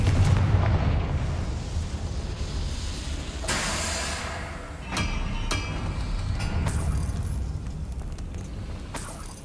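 A Confringo fire spell explodes in the video game Hogwarts Legacy, a deep rumbling blast followed by crackling bursts and sharp impacts over a continuous low roar, fairly distant and with no speech.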